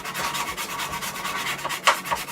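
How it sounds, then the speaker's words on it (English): Sanding sticks rub back and forth over a plastic model kit part, a run of quick, close, raspy strokes in an uneven rhythm, heard alone without talk. "These are SMS sanding sticks."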